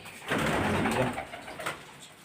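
Pigeons cooing close by, soft throaty coos rolling in a steady overlapping run with no talking.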